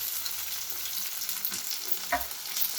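Long mango slices sizzling and frying in a pan for South Indian mango rice, a steady bright hiss with a brief stirring scrape partway through.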